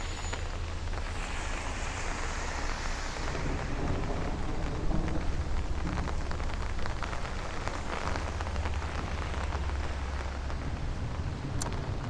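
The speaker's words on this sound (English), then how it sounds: "rain event has the most thunder we've heard all year." Steady rain falling on the streets of Bay Ridge, Brooklyn during a thunderstorm, a constant close hiss and patter with a few louder splashes, no voices.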